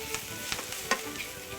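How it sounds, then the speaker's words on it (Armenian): Spinach seasoned with black pepper frying in a pan while being stirred: a soft, even sizzle broken by light scraping strokes and one sharper clack near the middle. "Կխառնենք այն։"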